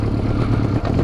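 A carbureted engine labours in sixth gear on a gentle downhill stretch, a low, rough, uneven rumble heard close up for about a second, with no talk.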